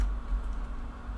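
Keys clicking on a computer keyboard as a date is typed in while setting up a Windows Whistler build in VirtualBox. The tapping is quiet and close, with a steady low hum underneath.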